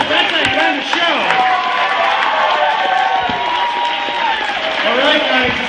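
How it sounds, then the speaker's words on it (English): Convention show audience at Chicago Wizard World cheering and clapping, a loud, dense crowd roar with shouts and excited voices filling the room throughout. "Round of applause."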